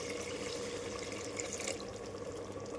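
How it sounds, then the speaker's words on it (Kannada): Water poured from a glass into a cooking pot of rice for mutton biryani makes a soft, steady splashing stream that runs unbroken for a few seconds at low volume. "ಈಗ ನೀರು ಹಾಕೋಣ."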